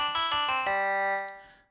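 A bell waveform played polyphonically on the miniBit chiptune and 8-bit synth app for iPad, heard as several quick, bright metallic chimed notes followed by a held tone that rings out and fades, clear and alone.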